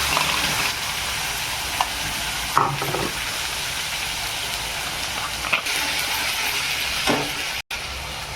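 Ground masala paste sizzling in hot oil in a pan with curry leaves, a loud steady frying hiss broken by a few clinks and scrapes of stirring, no talking.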